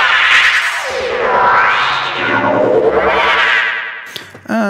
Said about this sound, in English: now we can give it some distortion just to get like a bite